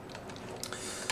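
Typing on a computer keyboard while entering a command to launch a Python notebook, a steady run of soft clicks ending with a sharper, louder keystroke near the close.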